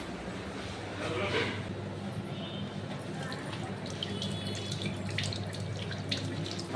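A water tap runs steadily at a hand-wash sink inside a hotel near the Malaikottai rock fort in Trichy, a continuous splashing stream with faint clinks over a constant low hum and background murmur.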